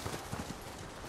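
Horse hooves clip-clop in Ghost of Tsushima, a few quick, faint thuds in a short burst over a soft wintry background.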